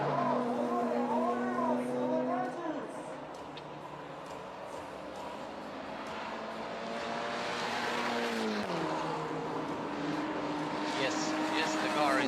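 Touring cars on a Baltic Touring Car Championship circuit near pit entry, engines droning and shifting pitch as they pull away, a steady mid-distance roar under a commentator's voice.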